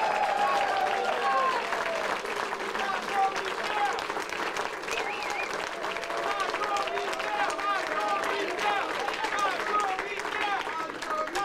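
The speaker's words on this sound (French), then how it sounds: "Ah, oui, on peut les applaudir." A restaurant team is applauded by an audience at a live show: dense, sustained clapping fills the whole stretch, mixed with crowd murmur and scattered voices.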